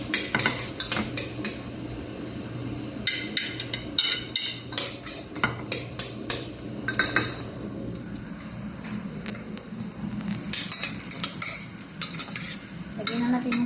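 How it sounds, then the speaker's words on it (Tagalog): Garlic and onion sautéing in a home kitchen pan for a chicken and rice dish, with steady stirring and scraping of a utensil against the pan and frequent sharp clinks over a soft, continuous sizzle. "Lagay na natin yung bawang guys."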